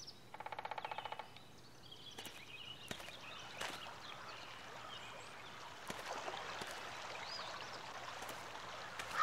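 Gentle flowing stream in the video game Anna Extended Edition, a soft continuous water trickle with a brief rhythmic clicking near the start and occasional sharp knocks, faint and steady.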